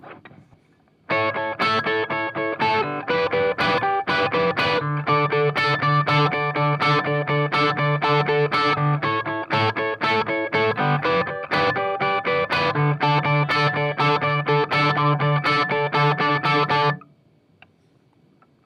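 Distorted electric guitar chugging a riff, a loud, tight run of rhythmic palm-muted chord stabs repeating for about sixteen seconds before stopping abruptly.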